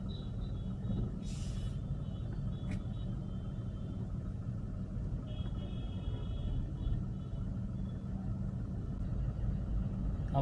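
Stalled traffic jam on a road, vehicles idling in a steady low engine rumble with distant hum and a couple of brief faint higher sounds, no talking.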